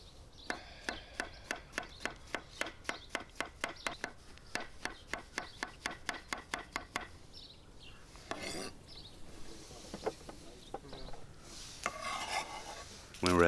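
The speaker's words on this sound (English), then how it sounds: "When done, we slice them up." A knife slices mushrooms on a cutting board in quick, regular strokes, a crisp rhythmic series of close cuts for several seconds, then slower, scattered rubbing and scraping sounds.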